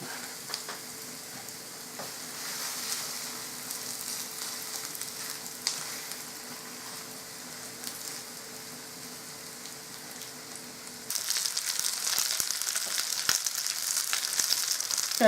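Schnitzels fry in heated oil with a soft, steady sizzle that swells into a louder, brighter crackle near the end as they settle into the pan.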